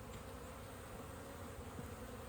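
Honey bees swarming around a beehive colony, a steady dense buzzing drone that stays even and close throughout.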